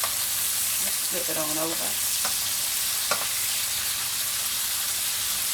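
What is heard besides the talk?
bacon frying in a pan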